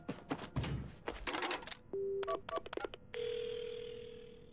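Telephone dialing inside a horror video game: a quick run of short key beeps and clicks follows some rustling, then a steady dial tone hums for over a second, clear and close with no talking.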